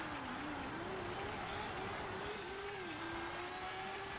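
A rally car engine in Super Woden Rally Edge drones at a steady, high rev with a tone that wavers slightly. The sound is loud and continuous, with no talking over it.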